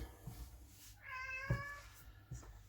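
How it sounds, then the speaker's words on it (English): A cat meows once in a drawn-out, close and clear cry during home bread kneading, with soft thumps of dough handling before and after it. "The cat is really not loving me for doing this just now."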